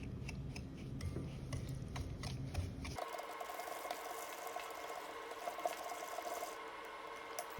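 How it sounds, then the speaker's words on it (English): Cooled butter is whisked with brown sugar and white granulated sugar in a bowl for soft, chewy chocolate chip cookies, giving brisk rhythmic clicking and scraping that shifts to a smoother, quieter texture partway through. "Then whisk to combine them."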